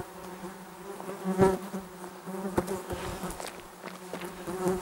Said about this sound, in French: Peuplé de mouches.